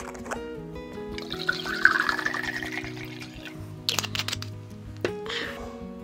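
A 90-degree distillate being poured into a small container, a soft liquid trickle with faint drips heard close up and moderately quiet.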